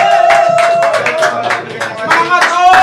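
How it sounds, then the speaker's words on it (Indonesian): An audience at an Indonesian talk event claps in a quick, rhythmic burst. Loud, close hand claps repeat about every quarter second under a held voice tone. "Oke, yuk kita tepuk tangan dulu yuk. Lebih kencang lagi"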